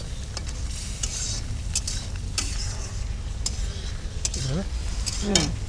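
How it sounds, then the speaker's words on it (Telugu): Mutton masala is stirred in a pan with a spoon: repeated sharp scrapes and clinks fall in an uneven rhythm over a low sizzling bed, with no speech. "అన్నీ వేసేసి ఇంకొకసారి బాగా కలుపుకోవాలి"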